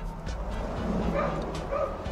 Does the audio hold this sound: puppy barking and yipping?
yes